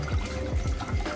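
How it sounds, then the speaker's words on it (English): Water pours into a cooking pot with an uneven gurgling splash that runs through the whole short moment, with no talking. "and we put some water."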